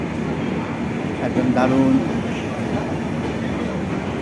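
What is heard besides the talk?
train departing and running on rails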